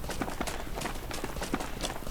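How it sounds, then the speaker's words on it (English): An enemy runs nearby in the video game Ghosts of Tabor, his quick, evenly spaced footfalls thudding softly and muffled as if behind a wall. "I hear his footsteps running"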